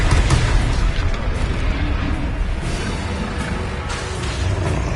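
A Confringo fire spell explodes in a Hogwarts wizarding video game, a loud sustained booming blast with rumbling low end that rolls on for the whole stretch.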